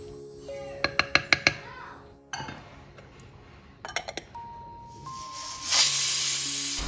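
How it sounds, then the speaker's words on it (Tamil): Inside a kitchen where rice is cooking, metal utensils clink in two quick bursts, followed by a rising hiss of steam escaping from a pressure cooker near the end. "ரைஸும் ரெடி ஆகிட்டுருக்கு. இன்னும் ஒரு விசிலில் நம்ம ஆஃப் பண்ணிடலாம்."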